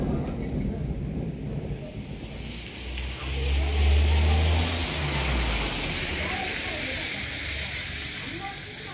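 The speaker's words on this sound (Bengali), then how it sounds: "মেঘের গর্জন শুনতে পাচ্ছেন।" Thunder rolls in a deep, sustained rumble that swells midway and then fades, over steady rain at a homestay near Lepcha Jagat in the Darjeeling hills.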